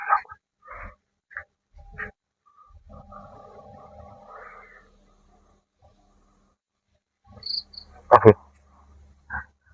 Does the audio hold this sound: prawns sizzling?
no